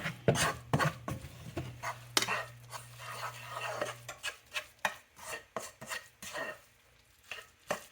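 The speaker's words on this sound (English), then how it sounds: "Then you're going to mix in your flour. And you're going to stir that in there." Flour being stirred into a shrimp and crab mixture in a pot, heard as a run of scraping, tapping utensil strokes against the pot, close and fairly loud, with a low steady hum underneath for the first few seconds.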